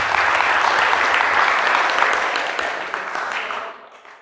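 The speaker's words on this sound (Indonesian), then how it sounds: "Tepuk tangan buat kita semuanya." Audience applause at an Islamic youth organization anniversary gathering, a dense sustained clapping crowd that stays loud and then thins and fades toward the end.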